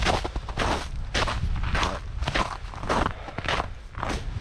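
Crunchy footsteps on snow on a winter woodland hiking trail, a steady walking rhythm of crisp crunches close by, with no talking.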